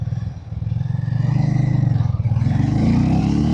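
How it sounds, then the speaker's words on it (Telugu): A Harley-Davidson X440 T motorcycle engine is opened up on the throttle while riding with rear ABS and traction control on, rising from a steady low thrum into a louder, building rev that climbs continuously and close up, with no talking. "సో నేను ఇప్పుడు ఇంత థ్రాటిల్ ఇవ్వగానే చాలా ఈజీగా పుల్ చేస్తుంది"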